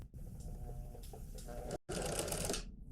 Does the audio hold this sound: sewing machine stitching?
yes